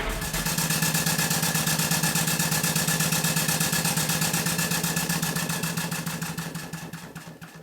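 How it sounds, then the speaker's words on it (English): An Allchin Royal Chester traction engine runs steadily close by, with a loud, even, rapid rhythmic beat that holds throughout and eases slightly toward the end. "I'm going to run the engine for a while just to let you see it while I figure out what to do"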